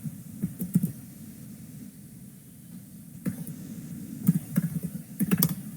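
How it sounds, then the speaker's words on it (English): Computer keyboard being typed on during an online physics class, with short clusters of light clicking keystrokes separated by quieter pauses, close by over a faint steady background hum. "Can you see what I'm typing?"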